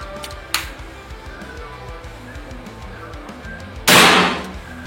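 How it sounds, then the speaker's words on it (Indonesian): A GK Mini Gen 3 PCP air rifle fires a single sharp, loud crack near the end, preceded by a fainter click, with a low background hum. "Tembakan yang keenam"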